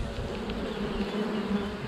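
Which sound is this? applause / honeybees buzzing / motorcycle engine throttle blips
honeybees buzzing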